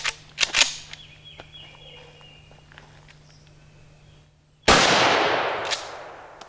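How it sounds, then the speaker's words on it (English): A Mossberg 590 Shockwave shotgun fires Winchester 9-pellet buckshot outdoors: a few sharp cracks at the start, a quiet stretch, then one loud blast whose roar fades slowly, with no voices over it. "So I got some 9-pellet Winchester buckshot, and we're just going to shoot it at the same distance and see what the pattern is."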